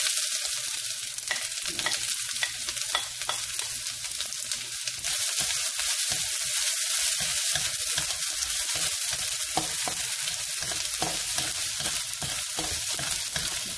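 Pork and ginger frying in a pan for ginataang langka, a continuous bright sizzle with occasional stirring scrapes and clinks, close and steady with no talking.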